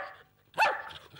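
A Bobtail dog gives a single sharp bark on command, close and clear, with soft noise before and after.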